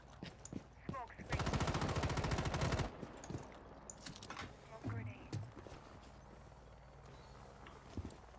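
Rapid gunfire bursts in the tactical shooter Rainbow Six Siege, a loud sustained automatic stream for about a second and a half, followed by scattered shots and game noises while players talk over it.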